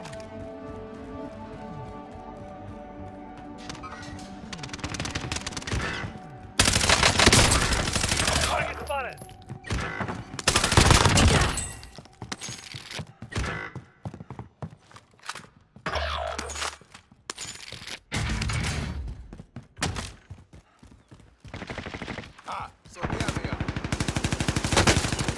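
Machine gun fire in a battle royale shooter game, loud repeated bursts of rapid automatic shots broken by short gaps, with game voice callouts and other players talking between volleys.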